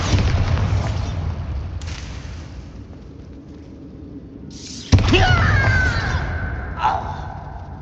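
A Bombarda spell explosion in Hogwarts Legacy lands as a sudden loud boom partway through, with rumbling debris and a second smaller crack after it, following a quieter rumbling stretch.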